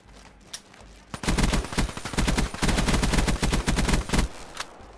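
Rapid gunfire from Black Ops 3 on the Nuketown map, with a couple of isolated shots followed by sustained bursts of automatic fire that stay loud and close, and no talking over them.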